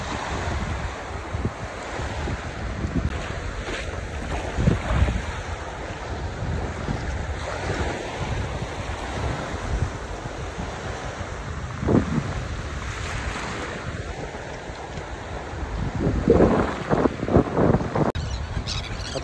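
Waves wash steadily onto an island shore near a sunken boat, with continuous surf and wind buffeting the microphone and a louder swell surging in near the end; no one speaks.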